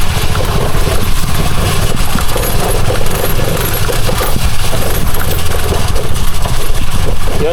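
A Bajaj RE auto-rickshaw engine runs steadily on a muddy, rough road, a continuous loud low rumble with a busy rattling texture throughout and no pauses.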